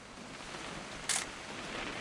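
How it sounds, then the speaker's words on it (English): A camera shutter fires once, a single short crisp click in the middle of a quiet hissy background. "Now I know I've got to take a photo."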